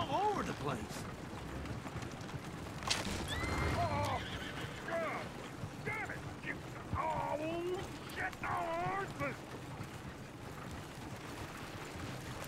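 A horse in the video game Red Dead Redemption whinnies several times amid clopping hooves and background game ambience, while characters talk over it.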